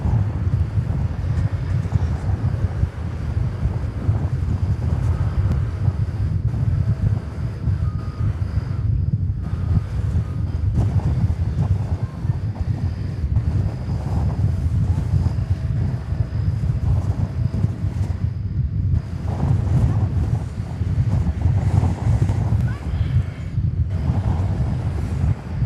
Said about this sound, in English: Gust of wind buffets us about.